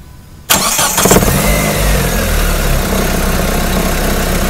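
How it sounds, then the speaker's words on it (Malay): Quiet at first, then a car engine cranks with a rattling burst and catches, settling into a loud, steady idle with a low rumble close by, with the radiator cap off during a leak check. "saya start enjin"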